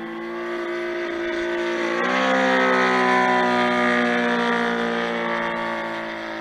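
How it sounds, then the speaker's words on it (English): A small model airplane gas engine, a Saito FG90 R3, runs at high, steady revs, its whine rising slightly and easing back, loud and close with no talking. "That's an engine you can listen to all day."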